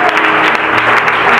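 A church congregation claps loudly and steadily at a Spanish-language evangelical service, a dense continuous wash of many hands with no pause.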